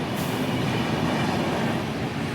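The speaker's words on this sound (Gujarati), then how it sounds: "ઉપરથી જાય છે રે મેટ્રો ટ્રેન લોકલ" A local metro train crosses overhead on a railway bridge, a loud, steady rumble and roar that fills the whole moment and is heard from directly beneath.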